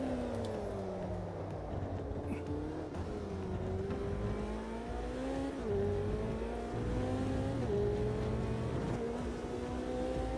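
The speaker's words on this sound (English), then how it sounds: "Sounds nice, doesn't it, this McLaren?" McLaren race car in the sim racing game Automobilista 2, its engine revving up and down through gear changes in a steady, continuous drone with no talking.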